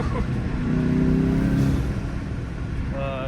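Engine of a 2021 Jetta GLI (MK7) fitted with an APR open air intake, revving up with a rising then falling whoosh and drone, heard near and steady, with people talking over it.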